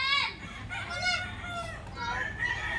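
A rooster in a backyard fighting-cock pen crows up close, a loud drawn-out cock-a-doodle-doo with strained rising and falling calls, other fowl faintly clucking behind it.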